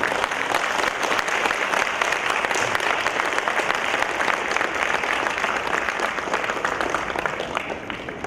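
Steady applause from a hall audience honouring three dignitaries at a 100th anniversary cultural event, dense and continuous clapping throughout with no pauses.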